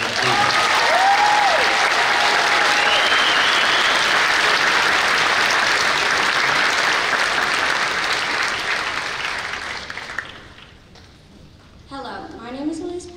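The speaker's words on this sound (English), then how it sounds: "Can you give them a round of applause?" Sustained audience applause at a school winter choir concert, a dense loud wash of clapping lasting about ten seconds before thinning out and fading, followed by a speaking voice near the end.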